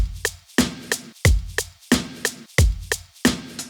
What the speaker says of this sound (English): We can do a kick drum and we can do a snare drum.